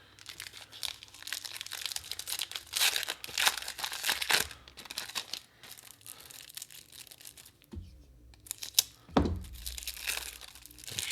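A Magic: The Gathering Jumpstart 2022 booster pack wrapper is torn open with loud, close crinkling and ripping of foil plastic, continuous for several seconds, then two sharper tearing bursts near the end, with no talking.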